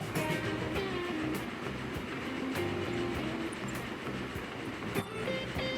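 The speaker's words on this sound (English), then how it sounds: "It's this steel train." Steel freight train running in Transport Fever 2: a steady rolling rumble of railcars with rhythmic clickety-clack wheel beats, moderately close and continuous.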